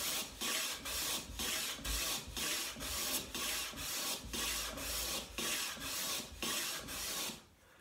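A hand plane takes shavings off waxed wood to flatten a box-joint workpiece, about a dozen rhythmic rasping strokes in steady succession, close and fairly loud, ending in quiet.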